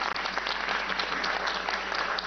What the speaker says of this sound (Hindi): तालियां जोरों से बजाइए